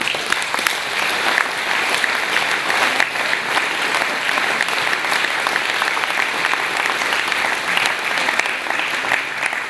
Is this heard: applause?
yes